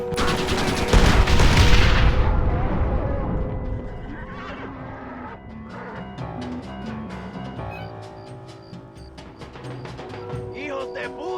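A cannon fires in the Red Dead Redemption video game, a loud boom that rolls into a dense burst of blasts and scattered gunfire, with horses whinnying and shouting voices in the mix.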